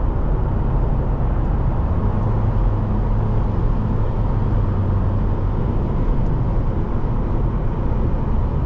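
A 2005 Saab 9-3 Cabriolet Aero with a turbocharged four-cylinder and automatic gearbox cruising on a highway, a constant loud low road and engine drone from inside the cabin, no voices.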